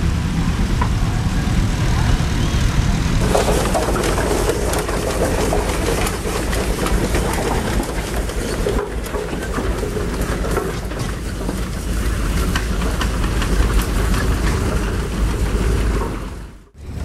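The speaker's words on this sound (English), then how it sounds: "this engine here is a 25 horse Huber steam engine" A 25 horsepower Huber steam traction engine runs at a steam show, a loud, continuous mechanical rumble and chuffing that holds steady throughout before cutting off at the end.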